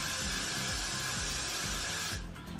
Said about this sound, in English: Just spray it at the back there,